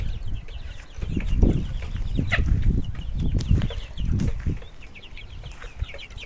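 Broiler chickens cluck and squawk close by while being fed mash, with scattered calls, scratching and bursts of wing flapping throughout.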